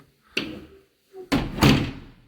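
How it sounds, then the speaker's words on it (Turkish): A new steel apartment door is closed: a first knock, then a heavier thunk and latch click up close, ringing briefly in a quiet room. "Şöyle kapımızı kapatalım."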